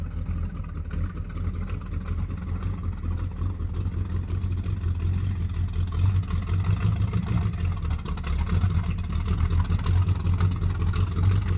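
A Pontiac Tempest engine runs steadily at a shade-tree garage, a low, continuous rumble that swells slightly in the second half, close and fairly loud with no talking.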